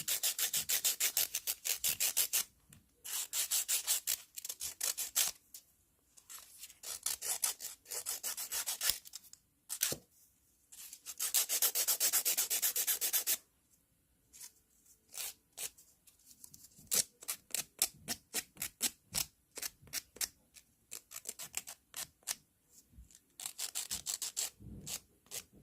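Acrylic nails being filed by hand with a nail file, close and fairly quiet: rapid up-and-down rasping strokes in bursts, with a few longer sustained scrubbing passes and short pauses between.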